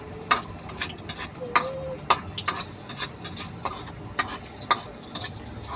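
Food frying in a pan: a light sizzle under irregular scraping and stirring clicks, moderately close, with no talk.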